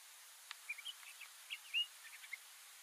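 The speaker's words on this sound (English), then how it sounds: "Can you hear the bird?" A bird calls with several faint, thin chirps and short tweets scattered over a hissy, quiet outdoor background along the Lost Dog Loop desert trail.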